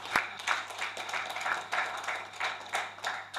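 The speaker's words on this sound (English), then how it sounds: "Another round of applause for him, please." An audience at a university business school plenary session claps for a speaker, a steady round of applause with rhythmic pulses, moderately near and without talk.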